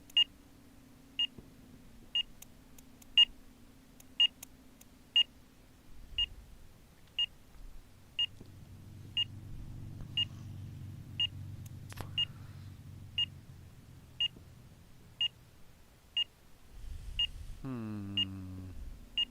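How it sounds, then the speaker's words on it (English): An annoying electronic beep from the IL-2 Great Battles flight sim repeats steadily about once a second for nearly twenty seconds over a low aircraft engine rumble that swells midway, ending with a brief rising whine. "we have to listen to annoying beep for a little bit"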